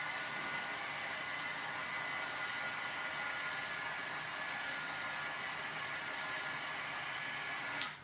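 A heat tool blows hot air over ink on cardstock to heat-set it, making a constant, close, breathy hiss that continues unbroken and ends with a brief click.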